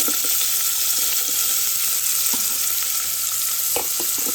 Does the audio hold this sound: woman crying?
no